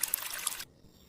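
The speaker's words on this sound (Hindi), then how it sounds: "घर में पड़ी सारी लकड़ियों पर पानी डाल देता है" Water is poured over a pile of firewood inside a house, making a short, bright splashing trickle that cuts off abruptly after about half a second, leaving near silence.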